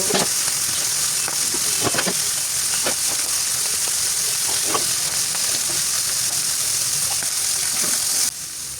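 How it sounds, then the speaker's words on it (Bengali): Chicken pieces fry in a pan with a loud, steady sizzle and crackle that continues without a break, and no one speaks. "এই মুরগিগুলো ভেজে নিব এক পিঠ সুন্দর করে ভাজা হয়ে গেলে অপর পিঠ আমি উল্টে দিব"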